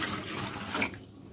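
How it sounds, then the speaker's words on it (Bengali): One litre of plain water is poured into a pot sitting on a stove, a brief steady splashing gush close by that fades out after about a second. "চুলাতে একটা হাঁড়ি বসিয়ে দিয়েছি, তাতে দিয়ে দিচ্ছি 1 লিটার"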